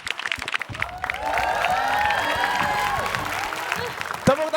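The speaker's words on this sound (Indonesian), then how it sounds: "Tepuk tangan sekali lagi buat Gautama dan juga Ate." Audience applause and cheering at a live comedy roast show, crowd clapping swelling under talk with whoops and shouted voices, then fading as someone speaks again near the end.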